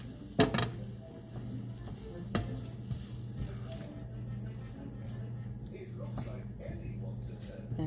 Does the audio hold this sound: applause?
no